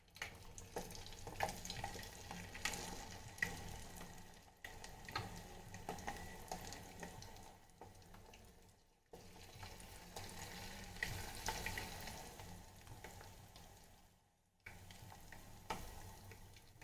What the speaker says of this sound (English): we'll fry the mushrooms till they turn light golden color